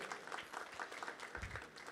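Faint, distant applause from a community audience at an Australia Day and Indian Republic Day celebration, an even spatter of many hands clapping with no voices over it.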